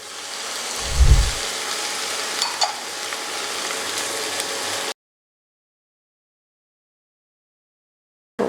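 Steady sizzling and crackling of tomatoes and onions frying in a pan for egg bhurji, with a soft thump early on, lasting about five seconds before cutting to silence.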